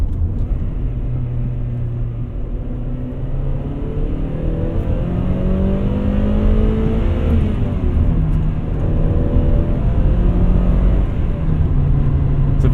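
A 2000 Honda Prelude with an H-series engine revs hard past its VTEC switchover, a loud, continuous engine roar that climbs in pitch, dips and climbs again with no speech over it.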